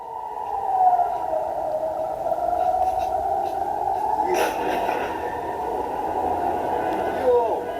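An air raid siren wails, rising and falling in long, steady tones, with a sharp thud-like burst midway and background noise throughout.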